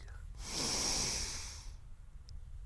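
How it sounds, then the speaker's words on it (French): A single deep breath drawn in slowly through the nose, a soft airy rush that swells and fades over about a second, close and quiet in a calm countryside setting. "On va faire une deuxième respiration maintenant."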